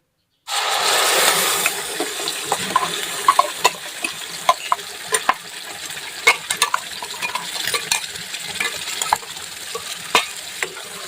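Ground peanut paste dropped into hot oil, bursting into a loud close sizzle that settles into steady frying, broken by frequent sharp spatters and pops.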